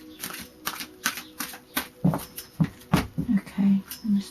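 Cards riffled and shuffled in quick crackling bursts, a flutter of snapping sounds repeating at a steady pace, close by, with soft low murmurs mixed in.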